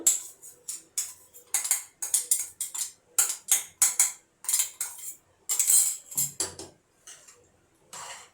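A spoon stirs flax seeds and peanuts together in a pan, giving a string of sharp metallic clinks and scrapes in an uneven rhythm with short pauses between strokes.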